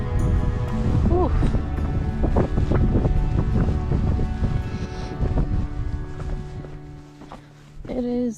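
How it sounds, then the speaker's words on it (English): Gusty wind on a canyon trail at Bryce Canyon roars loudly against the microphone and buffets it throughout. Footsteps and people's voices are audible beneath it, and the wind eases briefly near the end. "It is windy."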